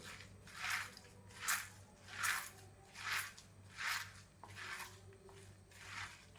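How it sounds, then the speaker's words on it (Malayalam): Soaked soybeans being mixed by hand with curry leaves, about eight evenly spaced wet squelches, close and fairly soft, with no talking. "നമുക്ക് കുറച്ച് വേപ്പിലും കൂടി ഇട്ടിട്ട് ഒന്നും കൂടി കുഴയ്ക്കാം"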